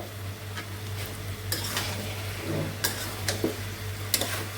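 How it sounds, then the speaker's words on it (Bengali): Spices and vegetables frying together in a pan, a steady low sizzle under a constant hum, broken by a few distinct scrapes and knocks of a spoon stirring, close and without voices. "এখন সবজির সঙ্গে ভালো করে ভেজে নেব"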